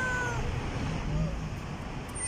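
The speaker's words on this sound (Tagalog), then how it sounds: "Si kuting, kuting." A kitten meows with a thin, high cry early on, a few faint meows following under a steady background hiss, close by, with voices nearby.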